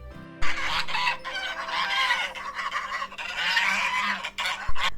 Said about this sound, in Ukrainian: Гуси гучно гелгочуть.